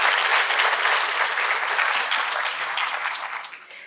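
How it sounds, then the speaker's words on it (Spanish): Audience applause at a book presentation, a dense, steady clapping from a full room that holds strong throughout and fades slightly at the end. "un aplauso también para ellos"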